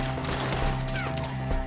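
Gunfire in Red Dead Redemption 2 during a shootout, a dense, continuous crackle of shots layered over loud, busy game noise.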